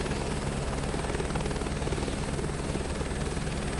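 Steady, loud turbine whine and rotor drone of an Airbus helicopter in Microsoft Flight Simulator 2024, continuous and unchanging throughout with no talking.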